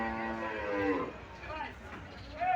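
Cattle low at a livestock market, a deep drawn-out moo with rich harmonics followed by shorter calls, amid a busy crowd murmur.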